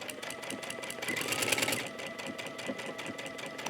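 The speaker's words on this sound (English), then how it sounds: "You love it when the machine knows how fast and how slow to go to make a perfect buttonhole." Sewing machine stitching a buttonhole on a sleeve tab, its rapid needle chatter running continuously and close, swelling louder and faster in the middle before settling back to a steady pace.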